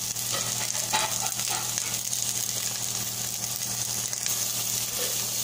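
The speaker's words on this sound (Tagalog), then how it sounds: "ilagay na natin yung onion at gisahin lang natin siya, guys, until mag-translucent siya" Onion is sautéed in a pan for chicken adobo, giving a steady, moderately loud sizzle with occasional stirring scrapes and a low background hum, and no voices.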